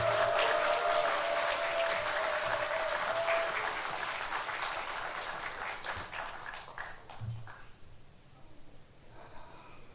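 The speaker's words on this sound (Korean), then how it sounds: "자, 박수로 환영합니다." Church congregation applauding in welcome of a visiting missionary preacher: sustained broadband clapping from a crowd, loud at first and thinning toward the end, with faint voices and a brief tone underneath.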